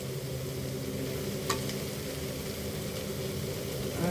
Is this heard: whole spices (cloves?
yes